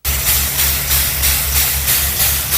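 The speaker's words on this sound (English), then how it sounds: "That is the sound of water being pumped out of parking structure 2A at LAX right now." Water being pumped out of a flooded parking structure at LAX, heard as a loud, steady rushing hiss with a low mechanical drone pulsing beneath it, continuous and close.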